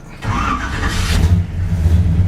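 An old truck engine cranks and catches, then settles into a low, steady idling rumble, close and fairly loud, with no talk.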